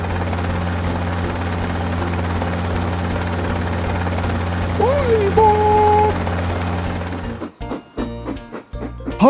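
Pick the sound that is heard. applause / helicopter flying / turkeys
helicopter flying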